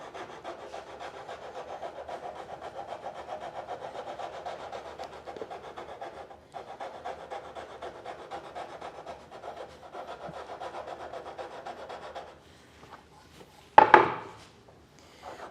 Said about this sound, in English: rather than do that, I think I'm going to use a rasp